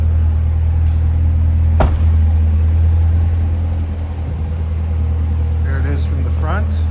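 A 2019 Corvette Z06 2LZ idles steadily close by, a deep, even low-pitched rumble that holds throughout, with a single sharp click and brief voices faintly over the engine near the end.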